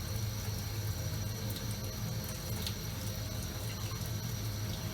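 Tap water runs steadily into a sink to rinse salt out of sausage casings, a continuous rushing splash at close range with no talking.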